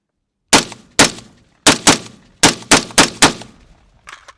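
Eight suppressed shots from an AR rifle firing Federal green tip ammunition on a freezing range, sharp, loud, close reports in an uneven rhythm, each with a short decaying tail, and faint clatter at the end.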